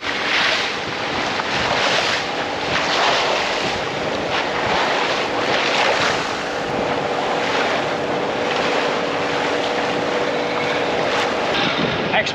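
Steady rush of wind and breaking waves around a small sailboat at sea in unsettled hurricane-season weather, with heavy wind buffeting the microphone throughout and no talking.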